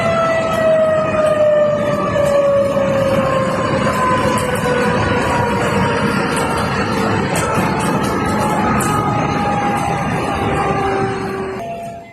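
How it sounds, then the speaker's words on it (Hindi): A flood warning siren wails continuously and loudly after a cloudburst, its sustained tones slowly falling in pitch over rushing background noise, cutting off abruptly at the end. "देखिए जरा वहां कैसे सायरन बज रहा है"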